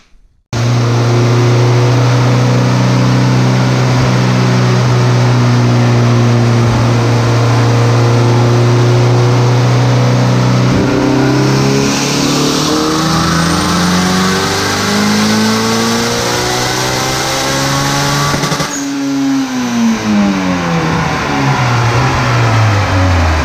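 A tuned car makes a cold dyno pull, its engine revving loud and continuous as the tone climbs steadily through the rev range, then drops sharply as the throttle closes near the end.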